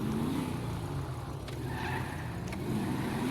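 A car is driven in GTA 5, its engine a steady, loud rumbling drone with shifting pitch, light tire noise throughout and a couple of faint clicks, with no talking over it.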